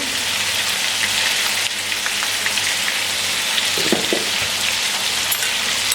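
Red chili powder and turmeric fry in hot oil in a pan with whole spices such as black cardamom, giving a steady, dense sizzle and crackle throughout, with a few faint utensil knocks and no talking.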